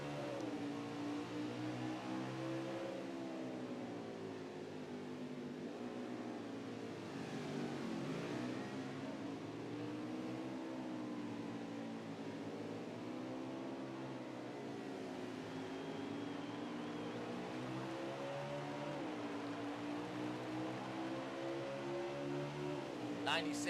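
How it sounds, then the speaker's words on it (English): Several sim race car engines on a virtual Charlotte oval rise and fall through wavering revs with repeated sharp gear-shift dips, a continuous mid-level drone under a commentator talking. "You can hear the revs climbing, the sharp shifting, going through the gears."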